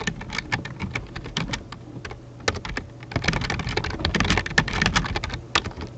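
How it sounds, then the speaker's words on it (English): Rapid typing on a computer keyboard, close and clear, with bursts of clacking keystrokes that pause briefly and then resume in a denser flurry. "What are you typing?"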